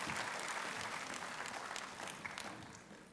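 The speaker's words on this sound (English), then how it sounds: "put your hands together once again in welcoming all the dignitaries with a big round of applause." A crowd at a university valedictory session gives steady applause to welcome the dignitaries, faint and distant, and it tapers slightly toward the end.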